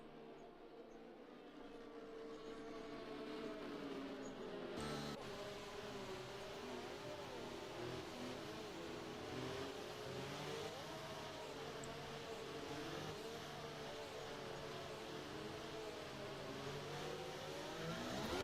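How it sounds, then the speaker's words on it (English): Race cars accelerating together at a safety car restart in a Formula racing video game on a USA circuit, with a Mercedes leading; layered engine whines rise and fall continuously at steady loudness, with a brief sharp burst near five seconds. "Dennis is off in the Mercedes, and the race has begun here in USA"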